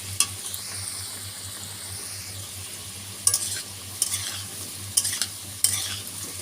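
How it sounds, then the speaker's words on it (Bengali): Potatoes fry in a pan with a steady, soft sizzle, while a spoon scrapes and clicks against the pan in several sharp stirring strokes toward the end. "আলুগুলো লাল লাল করে ভেজে নিতে হবে"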